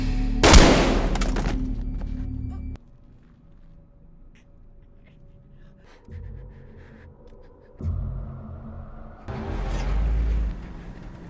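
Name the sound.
gunfire in a film scene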